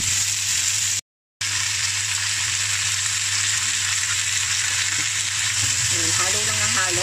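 Beef brisket seasoned with fish sauce sizzles steadily in a pan while it is stirred, a continuous close frying hiss with a brief dropout and faint voice-like tones near the end.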